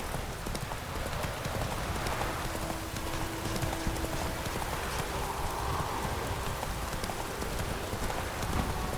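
Rapid hoofbeats of a horse galloping in The Witcher 3, a steady, fast clip-clop running throughout over a rain-like wash of ambient noise.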